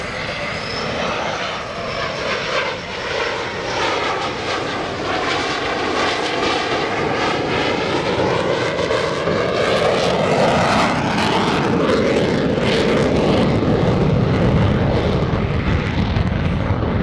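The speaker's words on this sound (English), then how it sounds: "we're going to see the Super Hornet in its carrier configuration pass" A US Navy F/A-18F Super Hornet in carrier configuration makes a pass at the 2017 NAS Oceana airshow, a loud, continuous jet roar that swells and shifts in pitch as it goes by, heard alone without talk.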